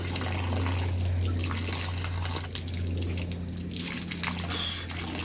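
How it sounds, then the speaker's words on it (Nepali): Water running steadily from a roadside tap on a hiking route, a continuous close splashing flow with a low hum underneath and no talk. "धारा"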